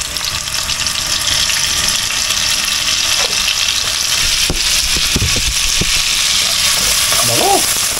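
Garlic sizzling in a hot pan, a steady broadband hiss of frying with occasional pops and clatter of utensils, close and continuous with brief voice sounds near the end.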